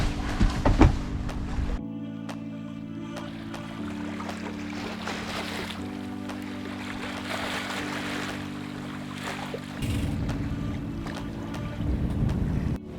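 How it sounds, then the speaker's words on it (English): Steady wind and water rushing past a sailboat running calmly downwind under full sail, with a low continuous hum underneath; a constant, moderately loud wash without voices. "Our sails are all set and it is just lovely. It's very calm, downwind sailing, super steady."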